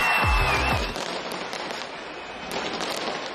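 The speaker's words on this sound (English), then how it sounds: "New Zealand became the first major nation to welcome 2026, marked by a fireworks display from Auckland's Sky Tower." New Year fireworks burst from Auckland's Sky Tower, with a loud crackling volley at the start, then scattered distant pops and crackles over a steady crowd and city hum.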